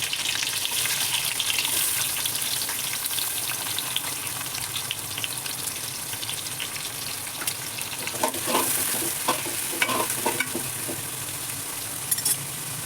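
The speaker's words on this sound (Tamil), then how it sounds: "வெங்காயம் நல்லா பொன்னிறமாக வரணும்." Onions frying in hot oil with cinnamon, cloves and cardamom for coconut chicken biryani, a steady bright sizzle throughout with occasional stirring scrapes toward the end, no talking.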